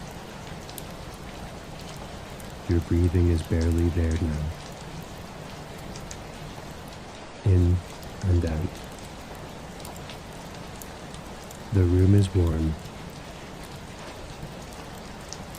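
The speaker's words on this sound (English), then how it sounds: "The rain falls." Steady rain falls outside a warm Victorian tearoom with a glowing fireplace, a soft continuous hiss throughout, while a calm voice speaks slowly in three short passages over it.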